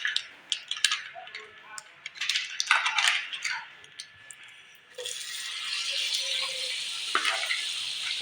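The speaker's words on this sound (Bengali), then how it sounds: "এখন আমি ফ্রাইং প্যানে এখান থেকে হাফ বাটার দিয়ে দেবো।" Butter dropped into a hot frying pan already holding oil, preceded by clinks of utensils, then a steady close sizzle that hisses on to the end.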